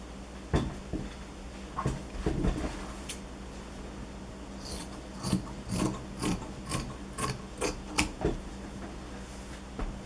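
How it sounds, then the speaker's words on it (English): Scissors snip and rasp through the exposed edges of quilt batting in a run of soft, irregular cuts and rubs, close by and fairly quiet. "Trimming off some of the exposed edges of the batting."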